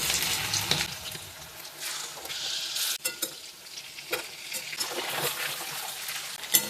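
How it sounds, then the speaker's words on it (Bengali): Prawns deep-fry in moderately hot oil over a low gas flame, a bubbling sizzle broken by sharp crackles and splashes as pieces are stirred and moved about in the pan. "এটা ডিপ ফ্রাই হবে।"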